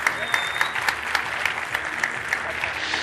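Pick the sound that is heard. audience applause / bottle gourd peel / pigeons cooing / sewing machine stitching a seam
audience applause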